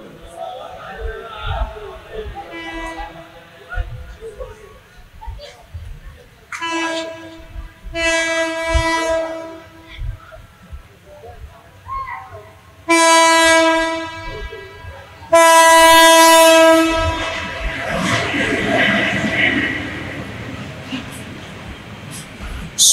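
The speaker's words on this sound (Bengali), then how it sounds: "ট্রেন আসতেছে, ট্রেনের লাইন থেকে সরে যান, ট্রেন আসতেছে" A train approaches with several long, loud blasts of its horn and a rising rumble of wheels on the rails as it passes close by, with a voice speaking faintly underneath.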